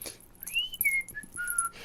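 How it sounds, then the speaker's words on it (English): A person whistles a short, wavering tune of a few rising and falling notes, soft and alone, with a faint background hiss. "Yeah, just whistling."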